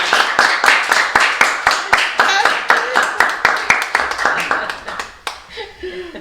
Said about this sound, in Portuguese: Palmas para a Paula Inácio